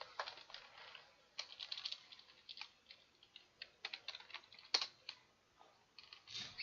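Quiet, close keystrokes on a computer keyboard come in irregular bursts of clicks with short pauses between them.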